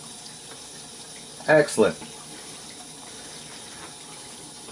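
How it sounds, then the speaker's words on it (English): Water runs to the drain during a GE water softener's backwash cycle, a steady low hiss throughout, with a brief spoken word partway through. "I can hear the water running."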